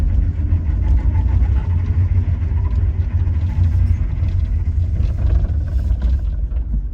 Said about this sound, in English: I'm gonna crank this and listen to the diff.